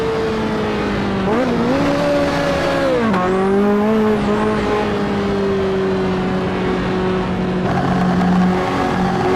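Ferrari F40 in the racing game Assetto Corsa, its engine note rising and falling through gear changes with a sustained high rev and a brief tire squeal, loud and close with no voices.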